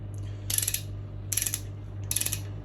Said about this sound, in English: I would like to tighten it down fairly evenly.